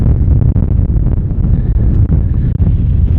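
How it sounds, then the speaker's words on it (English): Strong outdoor wind buffets the microphone in a steady, loud low rumble with brief dips, beside a van at a camping and fishing resort. "I came back over to the van because the wind was just so bad"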